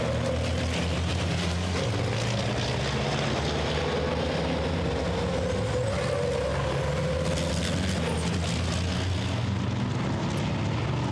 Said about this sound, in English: Antonio Albafetti later on the brakes, down into turn 12 in number 23.